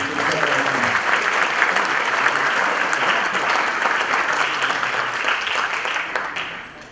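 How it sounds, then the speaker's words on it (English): A big round of audience applause from a room full of people, dense and sustained, holding steady for several seconds before tapering slightly at the end. "Big round of applause."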